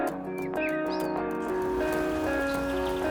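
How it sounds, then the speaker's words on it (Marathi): Cool monsoon rain falls steadily in a rural village around Jawhar, a constant near patter on surfaces, with faint bird calls over it and no talk. "आणि आता मस्त थंडगार असा पाऊस पडायला चालू झालाय."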